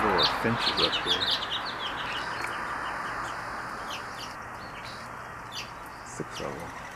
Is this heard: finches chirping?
yes